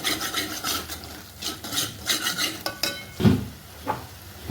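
Turmeric being stirred into an anchovy fish curry in a pot: repeated rasping scrapes of a spoon against the pot come in an uneven rhythm over a soft simmering sizzle, close and fairly loud, with no voices.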